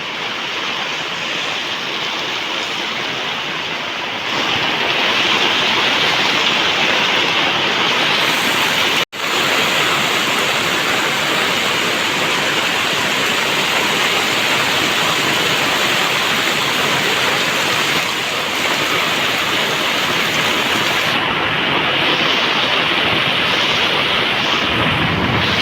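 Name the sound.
floodwater rushing at Damodar Kund, Junagadh, after heavy rain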